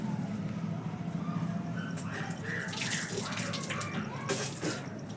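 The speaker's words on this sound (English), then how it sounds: "I am pouring the water. With the water, I am washing my feet." Water is poured and splashed while someone washes their feet, a continuous splashing wash with a few louder splashes near the end.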